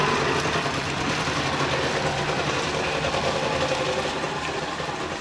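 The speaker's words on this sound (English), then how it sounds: "Check it out, it's idling now." A Trabant's two-stroke engine idles close by with a loud, steady, rattling drone and a faint uneven knock, running on alone without speech.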